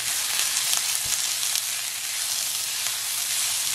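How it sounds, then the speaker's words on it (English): Diced green pepper, onion and celery sauté in olive oil for stuffed peppers, a steady close hiss of sizzling and frying with no talk over it. "you hear that cooking over there? That's the sound of cooking"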